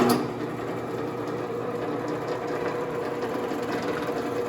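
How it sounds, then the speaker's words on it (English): A machine cutter whirs and grinds steadily at close range as it cuts around a hand mirror, a continuous mechanical drone with no talking. "What you're going to hear is the cutter start to cut as it makes its way around the entire mirror."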